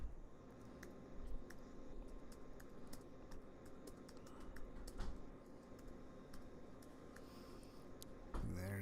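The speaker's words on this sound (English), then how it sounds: "Typing one-handed here." Computer keyboard typed one-handed gives sparse, irregular soft key clicks, some in quick bursts and some single taps, faint and close over low background hum, with no talking.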